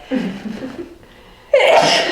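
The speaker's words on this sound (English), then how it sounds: "I'm going to sneeze, hold on." A short inhaling build-up followed by one loud, explosive sneeze, close to the listener.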